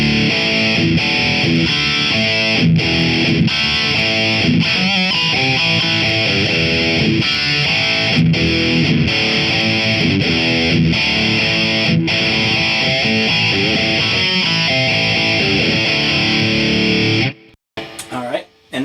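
Electric guitar played through a BOSS Waza amp head into a 2x12 cabinet, a loud and sustained driven tone with chords and riffs ringing out continuously. The playing cuts off abruptly near the end.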